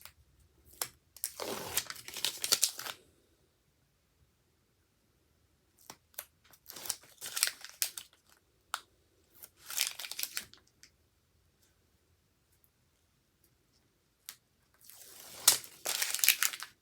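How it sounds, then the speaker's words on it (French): Paper album page being glued and pressed into place, several separate bursts of crinkling and rustling paper handling separated by silent pauses, fairly close and moderately loud, no talk. "Et au dos, on va coller la page numéro 6 comme ceci."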